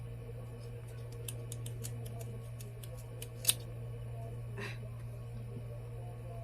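Scissors snip up a curly hair piece in a quiet room, a quick run of sharp, faint clicking cuts followed by a few isolated snips over a low steady hum.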